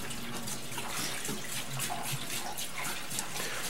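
Paint thinner solvent poured into a container during work on a Stihl TS350 cut-off saw, a steady, continuous liquid splash and trickle that is close and even for several seconds, with no voices.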